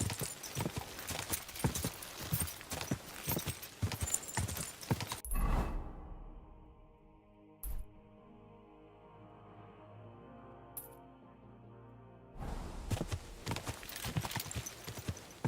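Horse hooves pound rhythmically in Kingdom Come: Deliverance 2 as the mount gallops, breaking off into a quieter stretch with faint tones before the hoofbeats return strongly at the end.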